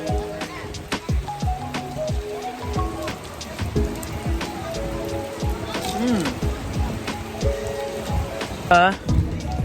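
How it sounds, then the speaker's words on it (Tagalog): Steady rain patters on a surface throughout on Cozumel Island, Mexico, with voices of people bathing in the rain and singing carrying over the constant hiss. "Ay guys, umuulan ngayon."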